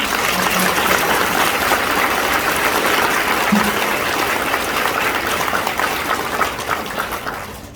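Audience applause at an elementary school graduation ceremony honoring award recipients, a dense sustained wash of many hands clapping, loud and steady before tapering off at the end.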